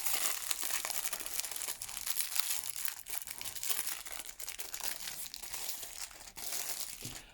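Plastic packaging on a diamond painting kit is cut and opened. The result is a faint, continuous crinkling and rustling with some tearing crackles, with no talk.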